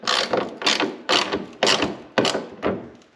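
A ratchet clicks in quick bursts while tightening a pod light mount on a Jeep WJ, five or six close, loud strokes in a steady rhythm with brief pauses between them.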